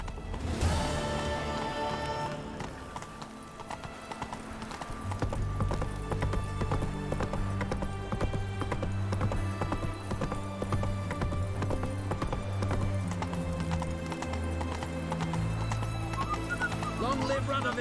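Roach, a horse in a video game, trots with steady rhythmic clip-clopping hooves close by, set under a sustained musical score that swells partway through.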